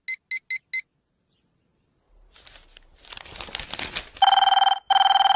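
An electronic telephone ringer trills in two bursts near the end, loud and close, after four short electronic beeps at the start and a stretch of crinkling and rustling handling noise in a domestic comedy scene.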